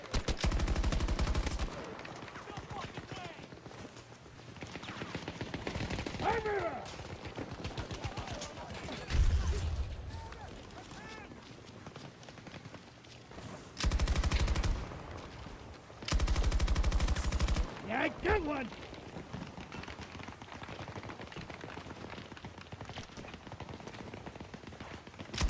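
Gunfire from the player's weapon in a shooter video game, loud bursts of automatic fire in several separate volleys with pauses between, plus quieter in-game movement sounds.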